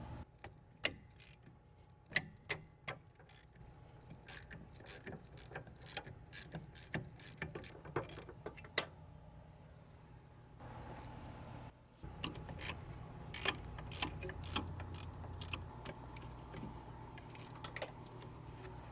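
Ratchet with a 14 mm deep socket working a rear brake caliper bracket bolt on a 2002 Lexus ES300, giving bursts of sharp clicks and ticks with quiet gaps between them, close up and with no talking.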